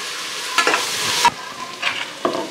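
Sliced onions and green chillies frying in a pan, a steady close sizzle with a few scraping stirs of a spoon. There is no talk.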